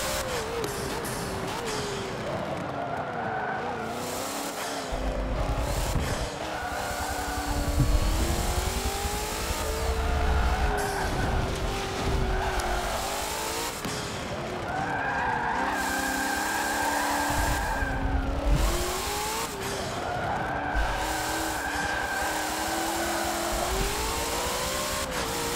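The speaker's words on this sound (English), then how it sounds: "We started to get a little drift." A racing car in Forza Motorsport 7 drifts on track, its engine revving up and down through repeated shifts while tires squeal in long wavering streaks, loud and continuous.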